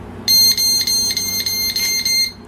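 A household smoke alarm being tested by pressing its button: a run of about eight shrill, piercing beeps in quick, slightly uneven succession, loud and close, with no one talking over them.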